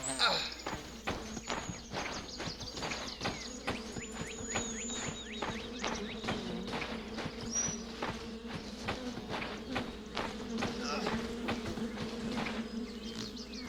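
Buzzing insects swarm around a hive in a video game about a blind princess, a steady droning hum with rapid pattering steps and clicks running throughout, fairly close and continuous.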